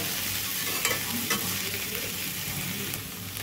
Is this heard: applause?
no